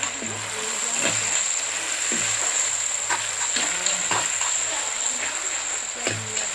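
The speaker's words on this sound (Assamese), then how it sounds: "এয়া জুইতে কেৰাহীখন পাতি লৈ এতিয়া মাংসখিনি এৰি দিয়া হৈছে।" Duck meat sizzles in a hot wok over a fire as it is stirred for a duck and pumpkin curry, a steady loud frying hiss with periodic scraping strokes of the spatula.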